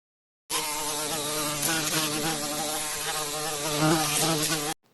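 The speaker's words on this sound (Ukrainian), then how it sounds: "Це бджола" A bee buzzes in a steady, loud, continuous drone with a slightly wavering pitch, heard close and alone from start to finish.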